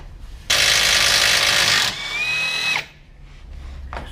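Power tool loosening a bolt on the lower control arm of a 2015 Chevrolet Aveo 1.6 16v, giving a loud sustained whir that winds down to a higher whine, then brief clanks of the part.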